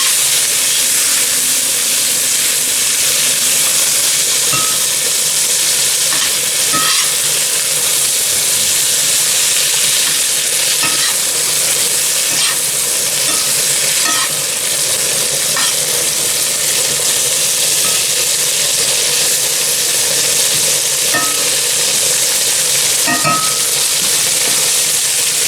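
Blanched string beans sauté with garlic in a hot pan, giving a dense, steady sizzle and hiss throughout with occasional soft clinks of stirring, close and uninterrupted by speech.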